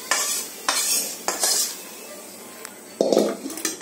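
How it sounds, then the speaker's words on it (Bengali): Fried chickpeas are tipped out of a metal wok in several short bursts of rattling, clattering grains and scraping metal, separated by brief quiet gaps. "কড়াইটা এইভাবে রাখলাম, রেখে কড়াইটা এইভাবে ঢেলে আমার তাড়াতাড়ি হয়ে গেল।"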